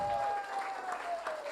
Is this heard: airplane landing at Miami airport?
no